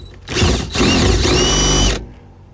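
A power drill fitted with new bits bores into metal while a seat is swapped into a Bullnose Ford F-150 project truck, two loud whining bursts close by with a brief pause between them, then quiet.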